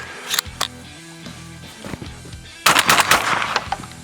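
A Browning Maxus II 12-gauge semi-automatic shotgun fires light target loads from the shoulder outdoors. A few sharp, loud reports come in quick succession, the last burst with a ringing tail, and there is no talking.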